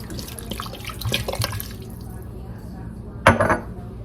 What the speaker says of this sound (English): Add clam juice.